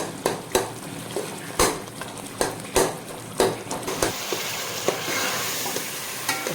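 Peeled tomato masala stir-fried in a pan, with a steady sizzle broken by repeated sharp scrapes and clinks of a spoon against the pan at an uneven rhythm, close and fairly loud, with no talking.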